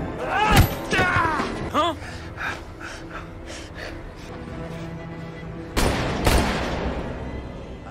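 Gunshots ring out in a film scene, with several sharp bursts and a couple of louder cracks late on, mixed with gasps, breathing and mechanical creaks.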